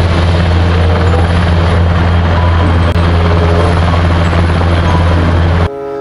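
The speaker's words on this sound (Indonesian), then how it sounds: "Ini adalah helikopter militer." Military helicopter giving a loud, steady rotor and engine roar that holds for over five seconds before abruptly dropping off near the end, with no speech.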